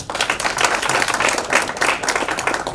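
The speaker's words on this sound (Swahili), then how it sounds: "Wewe bwana, naomba tumpigie makofi sana" A crowd at a ministerial dialogue on tech startups breaks into applause, many hands clapping in a dense, even wash that stays loud and steady from start to finish.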